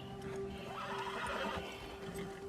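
A horse in Red Dead Redemption 2 gives a loud, close neigh with a rising and falling whinny, while hooves clop faintly beneath it.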